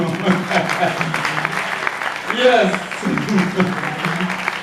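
A church congregation applauds during a sermon, a busy rattle of clapping mixed with voices and a speaker talking over it.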